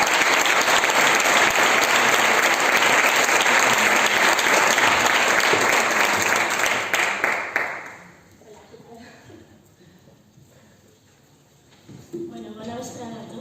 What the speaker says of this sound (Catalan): Rebem a Carmen Botella amb un fort aplaudiment.